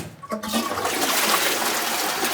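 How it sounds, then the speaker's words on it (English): A pull-chain toilet in a derelict French house flushes with a sudden rushing gush of water, loud and close, which keeps pouring steadily to the end. "Flush the toilet for me. Flush the chain."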